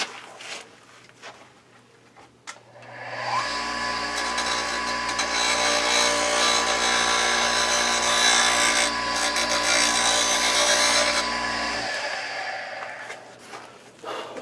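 A small woodturning gouge is touched up on a powered grinder in a workshop. The motor spins up to a loud, steady hum with rasping grinding, runs for several seconds, then winds down.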